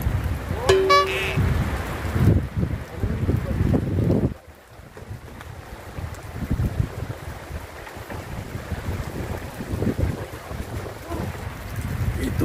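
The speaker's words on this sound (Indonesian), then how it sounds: "Anginnya kenceng banget hari ini, cuaca hujan, angin, petir, ini lengkap ini." Strong wind gusts in rainy, stormy weather at an outdoor tilapia fishing spot, roaring and buffeting the microphone in loud bursts, dropping briefly before surging again.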